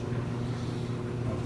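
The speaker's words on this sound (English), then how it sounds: "Now it is doing a spin." A Speed Queen washing machine runs its spin cycle after a pre-wash, giving a steady, loud mechanical hum with a low rumbling drone that holds evenly throughout.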